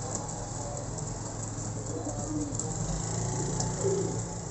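Pigeons cooing at a bird dealer's stall in Faisalabad, with soft, low coos rising now and then over a steady background hum and murmur, moderately close.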